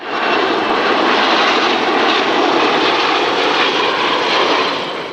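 Boeing 727 jet airliner of the Royal New Zealand Air Force's No. 40 Squadron at a public air display, its engines giving a loud, steady broadband roar that swells slightly and fades near the end.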